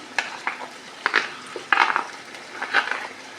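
Ground egusi tipped into a hot pot, then fried and stirred: a series of scraping, clinking spoon strokes against the pot over a soft sizzle, close and fairly loud, in irregular bursts.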